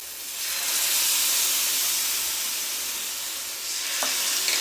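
Mushrooms frying on a hot iron tawa give a steady, close sizzle and hiss that swells and then eases slightly, with a faint clink near the end.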